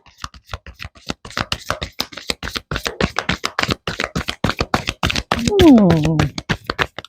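Tarot cards shuffled by hand in a quick run of crisp riffling slaps and flutters, loud and close, with a brief voice-like tone near the end.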